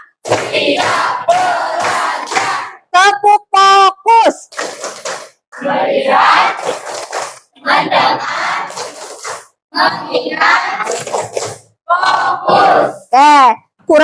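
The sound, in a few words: class doing rhythmic clapping chant (tepuk semangat)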